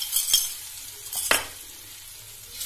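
Blended spice paste frying in hot oil, a soft continuous sizzle with a couple of sharp scraping stirs of a spatula against the pan, close and fairly quiet.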